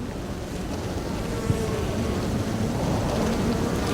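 Agitated honey bees at a hive, a dense, loud, continuous buzzing hum filling the whole stretch close by, with no talk.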